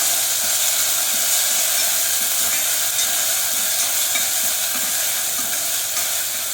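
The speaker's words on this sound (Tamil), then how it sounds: "இது கொஞ்சம் வதங்கட்டும்." Food sautéing and frying in a pan for Madurai chicken chops, with a loud, continuous sizzle close to the listener and faint stirring clatter underneath.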